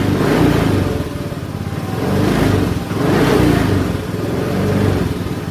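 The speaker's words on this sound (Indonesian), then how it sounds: "Untuk menghidupkan lagi motornya tidak usah ditekan tombol starter, cuma diputar tuas gasnya seperti ini." A Honda Scoopy scooter with idling stop system restarts by twist of the throttle alone, its small engine revving up and down in repeated swells, close and steady without speech.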